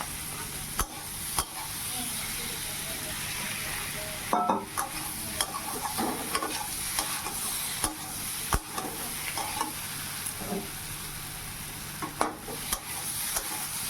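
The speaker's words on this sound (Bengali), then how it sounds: "আলুটাকে কষিয়ে নেব।" Potatoes with salt and turmeric being stirred and fried in a pan, a steady sizzle throughout with occasional scraping knocks of the spatula against the pan.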